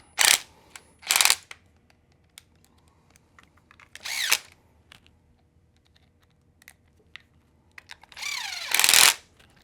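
Flathead screws being driven into the side cover of a Losi Promoto-MX motorcycle model with a small power driver, heard as several short whirring bursts with faint clicks and handling noise between them.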